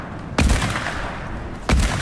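Two sharp, loud gunshots in a video game ring out about a second apart, each followed by a booming, noisy tail.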